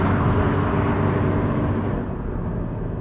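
A 2013 Subaru BRZ or 2017 Toyota 86 sports car engine pulls at full throttle around 3,000 RPM while climbing a hill, giving a loud, steady, close droning roar with no talk.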